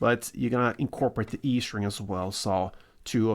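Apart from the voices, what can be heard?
No everyday noise stands out behind the speech.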